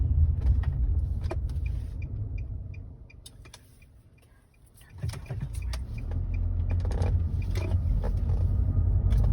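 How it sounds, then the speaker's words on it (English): A car interior while accelerating along a road, with a steady low engine and road rumble that dips briefly midway and then swells again, along with scattered creaks and ticks from inside the cabin. "the car is accelerating"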